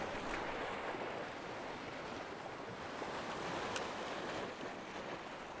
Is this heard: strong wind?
yes